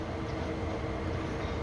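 A BNSF freight train with SD40 locomotives in Train Sim World 5 rumbles steadily with dense, even low-end roar and rolling wagon noise, continuous and close, no talking.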